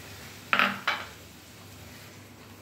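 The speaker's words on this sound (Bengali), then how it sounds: "এই মশলার পেস্টটা আমি এবার কড়াইতে দিয়ে দিচ্ছি।" A spice paste of ground poppy seeds and melon seeds goes into a kadai for a fish curry, with two quick metallic clanks of a spoon against the pan, close and fairly loud, followed by quiet.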